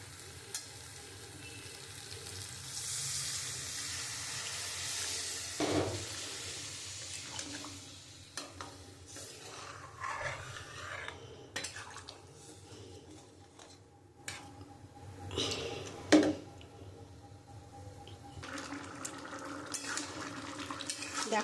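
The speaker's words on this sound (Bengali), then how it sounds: "তাই আমি এখন পরিমাণ মতন জল দিয়ে দেবো।" Water is poured into frying kidney bean (rajma) curry with potatoes. A gush of sizzle and rushing liquid is followed by bubbling, occasional pan clanks and faint background noises.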